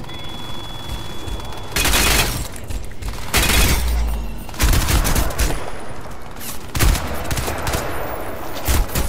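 Gunfire in Crysis 2 cracks out in loud bursts of rapid shots, with heavy booming impacts between them and a few pauses where the firing briefly stops.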